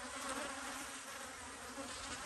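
Honey bees at an apiary hum in a dense, continuous buzzing swarm that stays steady and fairly loud throughout.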